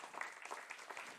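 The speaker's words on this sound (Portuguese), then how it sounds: "E o vosso aplauso é para receber a Carolina" An audience applauds at a health-care access conference session. The clapping is faint and distant, a short burst of dense, uneven patter.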